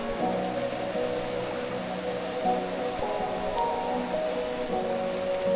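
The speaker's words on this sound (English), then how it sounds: "The river is no longer gentle. It hammers the rocks like a drum." A river rushing over rocks in a narrow gorge, a steady, dense roar of churning water, loud and continuous with no talking.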